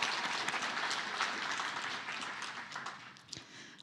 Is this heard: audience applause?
yes